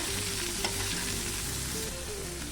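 Taro stolons frying with onion and garlic in a pan for a shrimp curry, a steady loud sizzle running throughout with a faint scrape of stirring.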